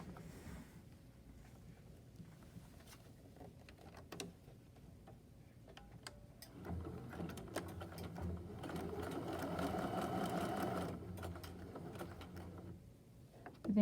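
A sewing machine stitches a box on pajama pants. Faint ticks and starts come first, then a steadier mechanical whir builds midway before it stops.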